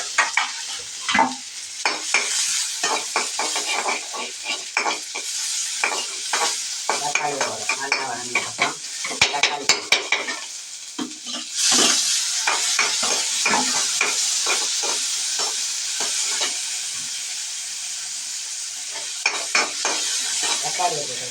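Sliced onions sizzle and fry in a pan while a spoon stirs them, sharp scraping strokes and clatter breaking over a continuous hiss. The sound is close and busy, with no voices.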